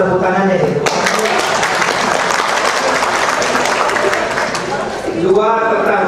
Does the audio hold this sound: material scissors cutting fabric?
no